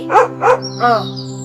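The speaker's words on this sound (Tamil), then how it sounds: "நாய்க்குட்டி ஒரு ஆழமான குழியில விழுந்து விட்டது. குரைக்கும் சத்தம் கேட்டதும் விவசாயி பதறி ஓடினார்." A puppy that has fallen into a deep pit barks close and loud: two sharp barks, then a longer whining yelp.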